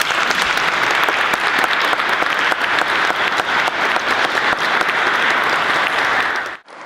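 A lecture-hall audience claps steadily and loudly for several seconds to welcome a speaker at a talk on religious change in early modern Scotland, the applause cutting off abruptly at the end.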